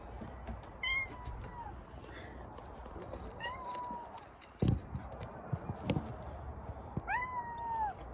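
A stray cat meows in a few drawn-out, rising and falling calls while being given food outdoors, with a couple of dull thumps and light shuffling in between.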